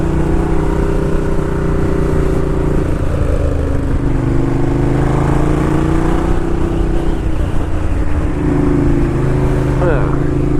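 Ducati Diavel cruiser motorcycle engine heard from the saddle while riding behind a slow Ford Escape, a steady droning hum with slight pitch rises as the throttle shifts, accompanied by wind rush.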